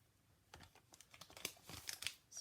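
Sheets of paper for a tri-fold daisy greeting card are handled up close, giving a run of crisp rustles and crinkles with a few sharp snaps. The sounds come in uneven bursts, with no talking.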